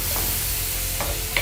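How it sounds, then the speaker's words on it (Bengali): Chopped onion and green chillies fry in hot oil with a steady, close sizzle, broken by a few brief scraping stirs of a spoon against the pan. "এখন এতে দিয়ে দিব আমি পেঁয়াজ কুচি আর দিয়ে দিব 3টা কাঁচামরিচ কুচি"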